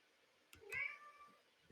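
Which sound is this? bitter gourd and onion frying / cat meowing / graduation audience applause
cat meowing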